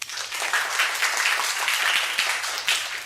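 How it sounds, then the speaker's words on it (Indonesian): A classroom of students applauds a classmate, steady dense clapping from many hands at close range, sustained for a few seconds without a break. "Oke, aplaus buat Fitri."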